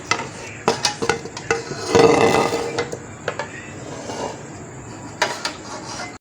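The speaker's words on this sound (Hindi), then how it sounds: "डिश आउट करने लगी हूँ।" Beef paya curry being dished out from a pot, with repeated sharp clinks and scrapes of a ladle against metal, a brief wet slosh in the middle, and quieter pauses between strokes.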